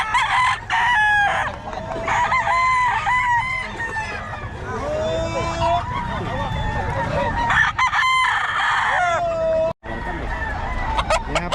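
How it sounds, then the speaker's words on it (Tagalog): Roosters crow repeatedly and chickens cluck at a busy chicken market in Pampanga, overlapping calls near and far over a steady crowd murmur, with voices talking in the background. "Manok lang nakakarami dito eh."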